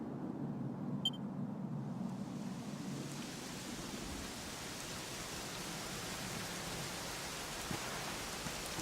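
Soft, steady rainfall in the video game Dragon Quest XI fills the scene with a quiet, even hiss, preceded by a tiny electronic blip at the start.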